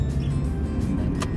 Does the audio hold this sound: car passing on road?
yes